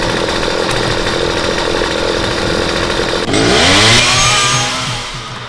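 A chainsaw in the video game Starforge Alpha drones loud and steady, then revs up sharply partway through before easing back, close and continuous with no speech.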